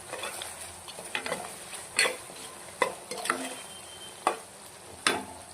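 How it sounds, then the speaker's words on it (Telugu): A spoon scrapes and stirs through bitter gourd curry sizzling in a pan just after turmeric goes in, with a steady fry hiss underneath and several sharp clinks of utensil against the pot at irregular intervals. "మన కలర్కి తగ్గట్టు పసుపు వేసుకొని ఇలా మొత్తం కలర్ తిప్పుకోవాలి"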